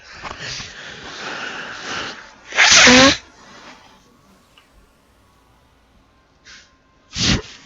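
Up close and loud, a single sharp sneeze bursts out during a game stream, preceded by sniffing and breathy noise and followed by a couple of quick sniffs or snorts.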